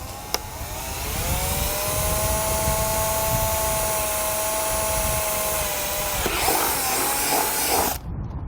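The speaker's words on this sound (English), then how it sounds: "we're just going to slowly drill that out" A power drill whines steadily at high speed for several seconds, then grinds and rattles as it bites through a plastic logo on a 2010 Dodge Nitro dashboard before stopping.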